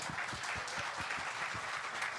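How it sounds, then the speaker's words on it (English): Conference audience applause at a platform day event, a fairly faint but steady patter of many hands clapping throughout, with no voices on top. "we need a lot of applause, please."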